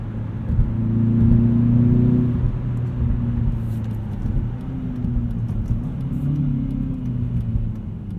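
A 2016 Hyundai Veloster Rally Edition with turbo boost and a six-speed manual pulls through the gears, its engine a steady, close droning hum that swells early and then settles into an even cruise.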